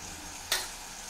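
A spoon stirs ground turmeric into brinjal and pea curry frying in a pan, giving one short scraping stir over a faint steady sizzle, quiet and close.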